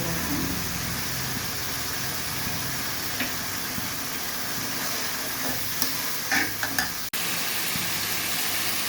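Vegetables and shrimp sautéing in a pan, an even sizzling hiss throughout with occasional spatula scrapes and clinks near the end.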